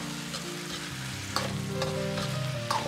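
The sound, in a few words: stir-frying ginger scallion chicken with sauce in a wok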